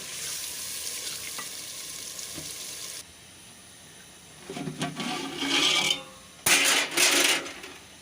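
Fried masala added to a pot of beef paya broth: a soft hiss turns into louder bursts of sizzling and bubbling, with clinking spoon contacts and a sharp splash near the end.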